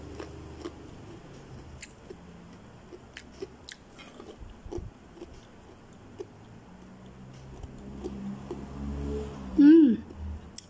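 Someone crunches crispy kuping gajah crackers flavored with spicy, salty dried shrimp, giving soft, sporadic bites and chewing close to the mic under quiet background hum, with a louder crunch near the end.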